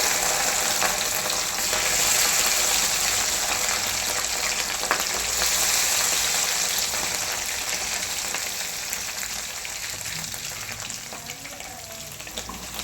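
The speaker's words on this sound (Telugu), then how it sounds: "వేయించుకొని దీన్ని మంచిగా ఇలా నూనెలో మంచిగా వేగేలాగా కలుపుకోవాలి." Prawns fry in oil with whole garam masala spices for a homemade dum biryani, producing a loud, dense, continuous sizzle that gradually softens slightly over the span, close up with no talking.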